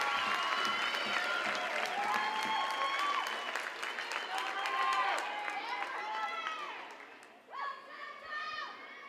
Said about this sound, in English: How about a big round of applause for Brenner Goree and Tori Smith?